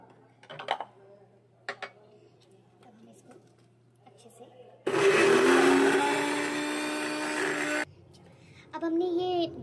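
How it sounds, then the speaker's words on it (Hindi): A kitchen blender grinds chana dal for hara bhara kebab in one loud, harsh whirring burst of about three seconds. Quieter talking and small kitchen sounds come before and after it. "फिर इस चने की दाल में ही हम इसे ब्लेंड कर लेंगे अच्छे से।"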